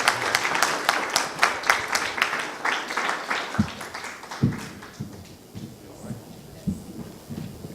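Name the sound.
audience applause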